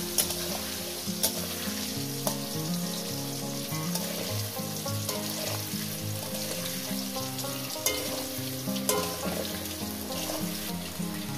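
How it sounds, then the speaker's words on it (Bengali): Steady, dense sizzling of potatoes frying in hot oil, with occasional stirring clatters, continuous and close throughout. "আলুটা সুন্দর করে লাল লাল করে ভেজে নেবো"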